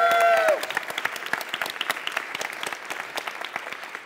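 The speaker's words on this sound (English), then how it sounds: "I need a big round of applause for her." Audience applause at a programming conference talk, a big round of clapping from a room full of people that follows a brief held tone at the start and then thins gradually.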